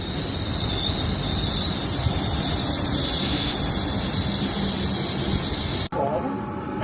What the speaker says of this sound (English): Ah, your train awaits.